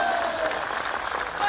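Audience clapping at a live Maha Shivratri bhajan evening, a short burst of crowd applause with a sung tone cutting through and a voice briefly over it.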